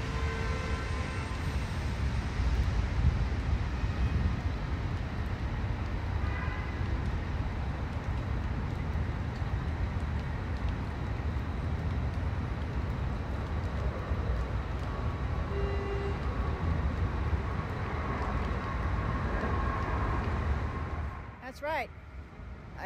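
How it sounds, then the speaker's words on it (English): An airplane passes overhead above Branch Brook Park, a broad, steady roar filling the whole stretch before cutting off abruptly near the end. "So the plane can pass over."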